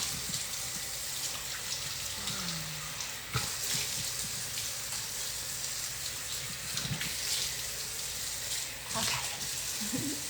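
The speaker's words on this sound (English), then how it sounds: "I would rinse a little longer if I didn't have you all here" Running tap water splashes steadily as a face is rinsed in a kitchen sink, a soft continuous wash with small splashes, and a voice briefly speaks over it.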